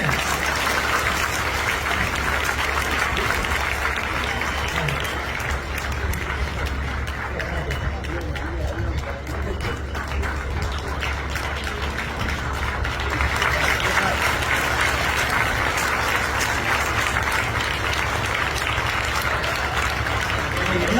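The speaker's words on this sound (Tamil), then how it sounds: "கைதட்டு" Audience at a Tamil public speech clapping continuously at moderate volume, a steady patter of hands mixed with crowd murmur and low hum throughout.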